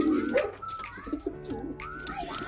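Racing pigeons coo repeatedly in a loft setting, soft throaty calls overlapping close by with some faint background rustle and no speech.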